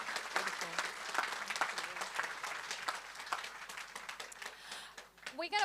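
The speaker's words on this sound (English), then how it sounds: "A huge round of applause, please, for Jake, Mark and Michael." A conference audience breaks into sustained applause, dense continuous clapping from many hands filling the room at moderate loudness, with a voice rising briefly near the end.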